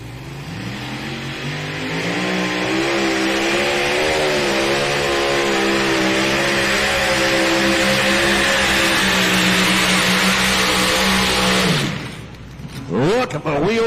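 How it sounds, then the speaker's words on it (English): A pulling tractor roars at full power during an NTPA truck and tractor pull at Bowling Green, Ohio. The loud, close engine climbs and holds a heavy, rising howl for about twelve seconds, then cuts off abruptly. "that tractor right there is last year's NTPA Grand National Points tractor"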